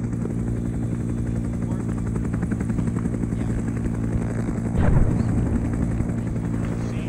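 A helicopter in the video game Arma 3 lands with a loud, steady rotor thrum and engine drone that fills the whole stretch, with a brief swell near the end.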